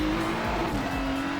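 A race car in the iRacing sim powers down a straight, its engine a loud, steady drone with a slowly rising pitch that fills the whole stretch, no voices over it.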